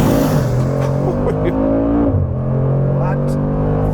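The 577-horsepower engine of a Mercedes-AMG G 63 builds revs and then surges hard from a standing launch, a loud, continuous close-up roar with a brief word spoken over it.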